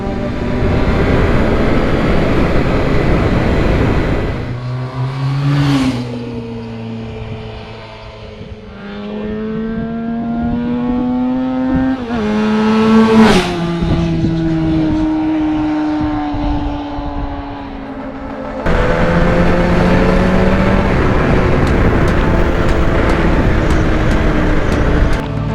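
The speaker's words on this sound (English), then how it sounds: "That's the intake sound, fuel injection working." Honda NR750 motorcycle engine with fuel injection, its intake note rising and falling through gear changes as the bike pulls hard, loud and close with wind rush and no talk.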